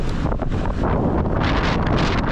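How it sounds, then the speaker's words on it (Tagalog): Strong gusting wind buffets the microphone beside a damaged seawall after a typhoon, a loud, continuous roar that rises and falls with each gust, with no voices. "Malakas yung hangin"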